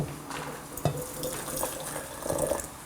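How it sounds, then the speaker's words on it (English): Boiling water is poured into a jar, giving a continuous splashing, trickling pour with a brief knock near the start and rising gurgle toward the end. "First, you have an adult pour some boiling water in your jar."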